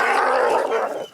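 A wolf at Wolf Park gives a brief, tense growling snarl during a wet night. The sound is close and loud, lasts about a second, and fades at the end.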